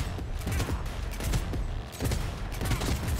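Automatic weapon fire in the video game Cyberpunk 2077: repeated rapid bursts of loud, close shots with short gaps between them, and no talking over the gunfire.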